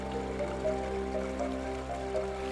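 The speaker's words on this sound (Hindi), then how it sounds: "इस छोटी नदी में हम अपने चेहरे और पैरों को धो सकते हैं।" Water trickles and splashes in a small jungle stream as someone washes their face and feet, a steady close burble with soft sloshing, no voices.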